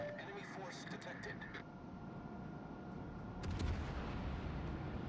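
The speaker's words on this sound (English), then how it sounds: "the Moskva is going to take some early shots" Naval artillery from the battleship Moskva in World of Warships Epicenter ranked battle: a heavy, booming salvo swells near the end over a low rumbling game soundscape, with a voice talking throughout.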